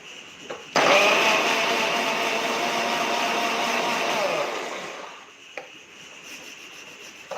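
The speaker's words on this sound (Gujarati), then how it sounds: "1 ચમચી પાણી નાખી એને ફરીથી આપણે પીસી લેશું" A kitchen mixer grinder blends date and tamarind chutney with a spoonful of water, giving a loud, steady whirring for about four seconds before the motor winds down and stops.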